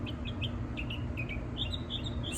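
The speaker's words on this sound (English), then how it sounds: "I hope you enjoyed the outside and the birds and the breeze and the green." Birds chirp outdoors in short, bright, scattered calls over a steady low background hum, fairly faint and with no talking.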